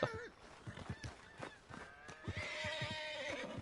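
Horses in the Red Dead Redemption 2 video game whinny and neigh, a long high neigh followed by snorts and clip-clopping hooves, with a second drawn-out whinny near the end, fairly close and clear.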